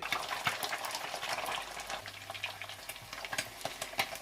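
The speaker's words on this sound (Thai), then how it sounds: "โน้นตั้งกระทะ ทำไข่ดาว" Eggs frying in a pan outdoors for a Thai breakfast of fried eggs and sai ua sausage, a steady crackling sizzle with scattered pops, moderately close and alone.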